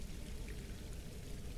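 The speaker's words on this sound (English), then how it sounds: "that water is coming from Lake Ilinalta" Steady flowing water from Lake Ilinalta in Skyrim, a continuous close pouring rush with no voices.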